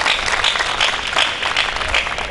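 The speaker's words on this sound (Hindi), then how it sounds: "समझ में आ गई तो ताली बजाइए भाई।" Audience applause at a Hindi women poets' gathering in Surat, a dense burst of clapping from a crowd, loud and continuous for a couple of seconds.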